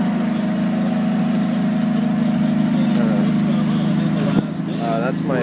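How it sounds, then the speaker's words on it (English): A 1960 Chevrolet Impala's six-cylinder engine idles steadily close by, a continuous low rumble with a faint thump near the end and some background voices. "The car is running right now."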